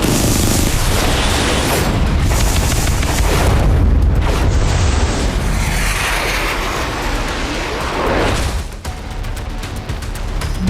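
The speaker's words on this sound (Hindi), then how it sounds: "वॉरशिप से मिसाइल निकली और टारगेट को सेकंडों में ध्वस्त किया।" An anti-ship missile launched from an Indian Navy warship in the Arabian Sea roars continuously and loudly like a rocket blast, with rushing, booming noise that swells and then fades toward the end.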